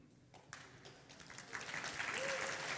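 A tech conference audience at React Next breaks into applause after a dad joke: a few scattered claps build into fuller clapping, with faint talk mixed in.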